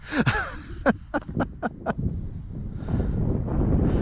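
A light Dynam Skytrainer 182 RC plane flies overhead, its small electric motor a steady whine that grows louder toward the end, with a few sharp clicks and gasps of breath nearby early on.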